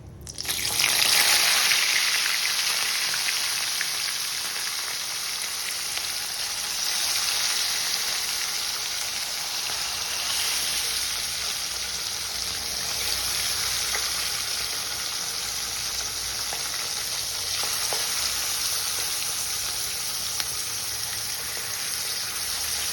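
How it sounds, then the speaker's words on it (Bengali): Pieces of marinated katla fish fry in hot oil in a pan, giving a loud, continuous sizzle that flares at the start and then settles into an even, crackling hiss, close and with no talking. "গরম তেলে আমরা মাছগুলোকে অল্প করে ভেজে দিচ্ছি"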